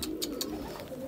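A pigeon in a bird shop gives a soft, short coo, heard close and fairly quiet, with a few faint clicks behind it and no talking.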